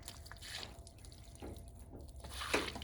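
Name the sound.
water poured onto a freshly sawn ash slab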